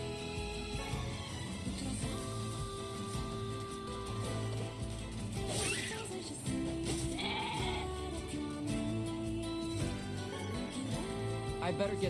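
Sheep bleat a few times in the video game NieR Replicant over steady, droning background music, fairly faint in the mix.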